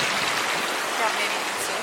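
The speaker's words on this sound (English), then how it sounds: "It has very slightly started to rain." Light rain just beginning to fall on an Atlas Mountains hiking trail near Marrakech, a soft steady hiss of drops filling the short moment at moderate level, with no clear voices over it.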